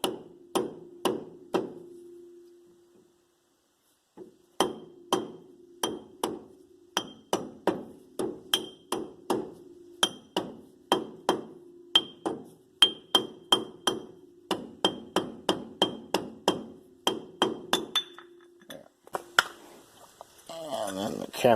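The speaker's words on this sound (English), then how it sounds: "To get the cap off, you're just going to take a hammer, tap on it all the way around until it comes off." Hammer tapping a hub cap off a 1997–2000 Dodge Ram 1500 truck wheel, a long run of sharp metallic knocks in quick, uneven bursts with short pauses, close and clear.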